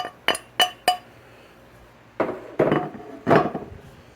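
Three sharp, ringing hammer taps hit a seized 1979 Vespa P200E Piaggio engine, followed after a pause by three duller, heavier knocks, all close up with quiet between them.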